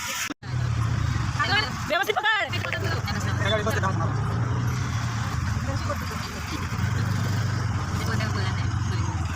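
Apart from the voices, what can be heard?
auto-rickshaw engine while riding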